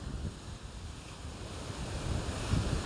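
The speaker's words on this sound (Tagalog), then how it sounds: "Ayan, lakas ang hangin." Strong wind roars over the sea shore alongside crashing surf and buffeting microphone noise, a dense, continuous rush that swells slightly toward the end.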